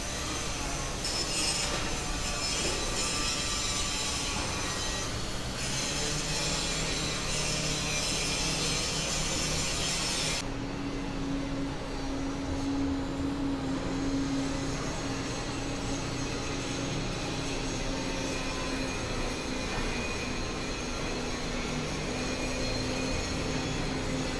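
A Koleje Mazowieckie passenger train rolls into a station under modernization, steady rumbling wheels and rail noise sustained throughout, with a squealing tone rising partway through, loud and near.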